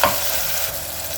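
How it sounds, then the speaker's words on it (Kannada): Chopped onion, garlic and freshly added tomato sizzle in hot oil in a pan for peas pulao, with a brief stirring scrape at the start. A steady, close frying hiss continues alone, with no talking. "ಇದೆಲ್ಲ ಸಾಫ್ಟ್ ಆಗೋವರೆಗೆ ನಾವು ಎಣ್ಣೆಯಲ್ಲಿ ಫ್ರೈ ಮಾಡ್ಕೋಬೇಕು."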